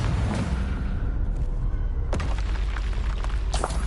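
A Confringo fire spell blasting in the wizarding game Hogwarts Legacy: loud, heavy booms and crackling bursts rolling one after another, close and forceful, with no talk.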